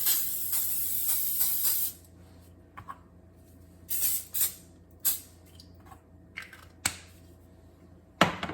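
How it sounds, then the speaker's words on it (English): A few short hissing bursts of cooking spray onto a baking dish, close by, separated by pauses in an otherwise quiet room. "we will need to spray it with cooking spray"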